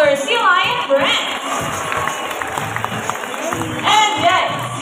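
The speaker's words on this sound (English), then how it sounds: "How about a round of applause for sea lion friends?" A crowd at a live sea lion show claps and cheers, with children shouting among the audience, while a presenter's amplified voice talks over the noise.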